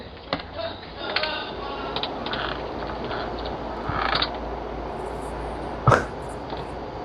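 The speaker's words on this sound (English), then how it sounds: "You opened the door." A door creaks open on doorbell-camera footage, a faint drawn-out groan buried in steady background hiss, followed by a sharper knock or thud near the end.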